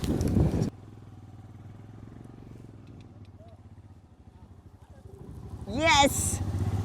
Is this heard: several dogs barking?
no